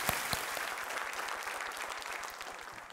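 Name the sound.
studio audience applause on KBC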